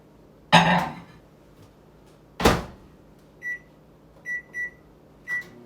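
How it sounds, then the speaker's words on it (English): A microwave door clunks shut twice, then a few short electronic beeps sound as it's set to 1 minute on high; quiet room otherwise. "this is going to go into the microwave for 1 minute"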